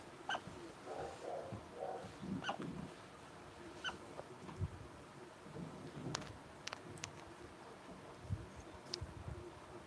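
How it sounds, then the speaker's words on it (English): A small dog gives a few scattered, high yips and whimpery barks at moderate distance, with quiet gaps between them. "I hear a puppy dog."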